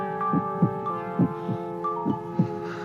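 A steady, regular heartbeat thumps in close, paired lub-dub beats repeating about every 0.9 seconds over a low sustained hum, with no voices present.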